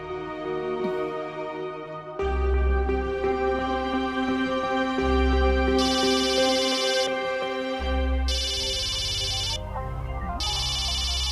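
A mobile phone ringtone plays repeatedly, a bright electronic melody looping in bursts with brief pauses, loud and close, with no talking.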